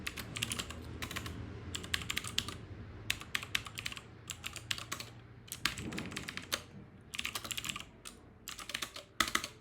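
Code being typed on a computer keyboard, quick irregular clusters of soft clicking keystrokes with short pauses between bursts, close and fairly quiet with no talking.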